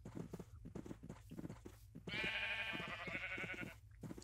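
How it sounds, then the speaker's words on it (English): Sheep in a video game bleat in a quick string of short calls before one long, loud wavering bleat takes over near the middle, close and clear with a few softer bleats trailing after. "We actually didn't have to go very far for sheep at all."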